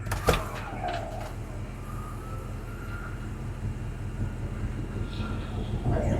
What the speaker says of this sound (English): all 4 power windows work just like they should. So does the power top